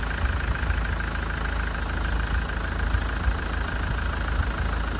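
Car engine idling during a head gasket test with exhaust gases in the cooling system, a loud, steady, even rumble heard close up with no speech.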